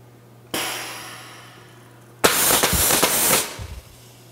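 A 700-DX fastening tool fires in reverse sequence: a sharp onset, a sustained burst, then a louder, dense run of rapid cracking reports lasting about a second before cutting off, with no talk.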